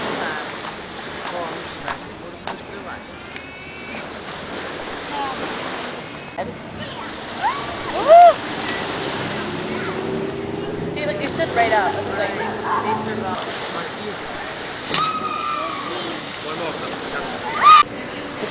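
Sea waves wash against the shore in Lisbon on a cold, cloudy day, a soft, steady surf with occasional louder surges. Faint voices and small knocks rise now and then above the water.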